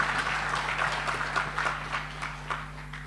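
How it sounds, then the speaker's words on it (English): An audience at a school leadership summit applauds a political speaker, a steady, fairly faint wash of many hands clapping under a low electrical hum, with no talking. "clap them, man, clap them"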